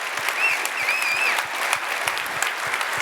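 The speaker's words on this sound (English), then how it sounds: "I just want to clap it up for that one more time." A summit crowd claps loudly and steadily during a motivational keynote, thick sustained applause with a couple of whistles cutting through near the start.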